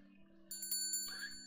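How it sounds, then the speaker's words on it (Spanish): A shop door bell jingles as someone enters in a visual novel game, a quick bright metallic ring that rises over a low steady hum and lingers briefly, faint overall. "La campana de la puerta tintinea cuando entro."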